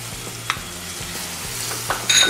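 Grated onion frying on a high gas flame, a dense crackling sizzle with a few scraping stirs and clinks, close and continuous, no talking.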